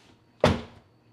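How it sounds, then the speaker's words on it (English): A Tesla Model Y car door closes once with a single muffled thump, fairly close and alone in a quiet setting. "See how the door closes?"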